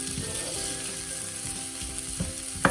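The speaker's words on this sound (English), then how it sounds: "it will be like we are frying potatoes or roasting potatoes" Steady sizzling and crackling of potatoes and aubergine frying in a hot pan, with occasional scraping or stirring clatters and a sharper knock near the end.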